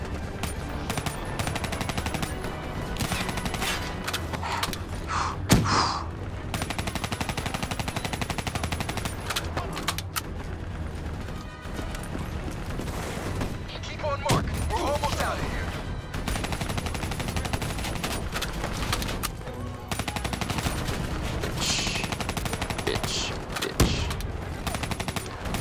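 Rapid, sustained gunfire from a Black Ops III first-person shooter match, dense automatic bursts running nearly continuously at high loudness with brief gaps, a few sharper single shots, and occasional voices underneath.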